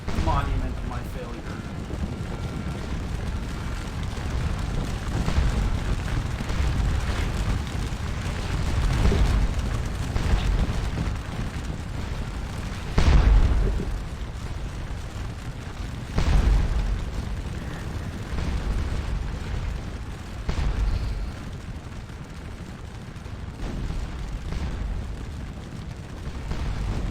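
Booming artillery volleys from a Napoleonic-era French versus Prussian battle in the Scourge of War strategy game, several loud thuds standing out over a constant rumbling din of gunfire and wind-like noise, with someone talking throughout.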